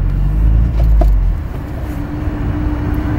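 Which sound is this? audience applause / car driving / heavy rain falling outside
car driving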